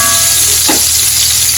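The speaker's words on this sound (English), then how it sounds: "Onion is being fried." Diced onion frying in hot oil for a vegetable stew, a steady close sizzle with a brief stirring scrape in the middle, no talking.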